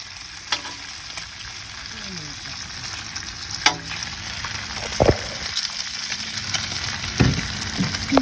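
Cinnamon banana pancakes frying in a pan for breakfast: a steady, close sizzle runs throughout, broken by a few brief scraping clinks as they are turned or stirred.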